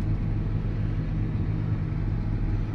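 A work machine rolling under Trimble autosteer during spring training in France, giving a steady, close, low engine rumble with an even drone throughout and no talk over it.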